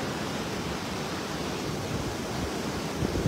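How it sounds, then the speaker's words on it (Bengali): A fast, powerful river current in Kashmir rushes steadily on its own, a dense, unbroken roar of water that stays close and loud with no voices over it. "দেখো কি ভীষণ স্রোত"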